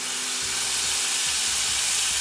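Loud, steady sizzling of a tomato sauce with garlic, pepper, basil and onion powder cooking down in hot oil, a continuous close hiss with faint bubbling and no talking.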